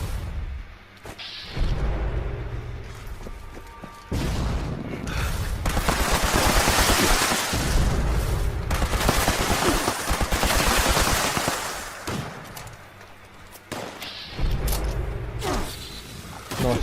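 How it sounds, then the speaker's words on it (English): Bursts of rapid gunfire from an explosive laser rifle in Fallout 76, loud crackling volleys with booming impacts, separated by brief quieter gaps and a reload. "Quite good with junkie explosive laser rifle."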